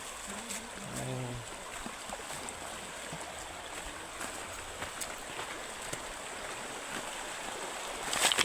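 Steady soft rush of flowing water from a stream at a remote bathing spot, continuous and fairly distant, with a brief tonal sound near the start and a faint voice.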